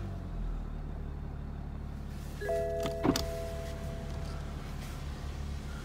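A BMW 330d M Sport diesel starts up with a brief whirring crank and a soft catch under a steady low background hum, followed by the engine settling into a quiet idle.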